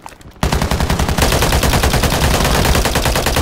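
Rapid automatic gunfire in Warzone 3, a dense, loud burst of shots starting abruptly after a brief quiet moment and continuing steadily to the end, close and alone without talk.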